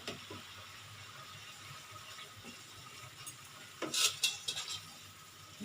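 Spice masala for a chana dal and pointed gourd dish sautéing in a pan, a faint steady sizzle with soft stirring scrapes and a brief louder rattle of utensil on pan midway.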